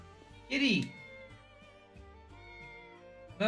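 A cat in the video game Triangle Strategy gives a clear sliding meow, then a second short meow at the end, against quiet game background music.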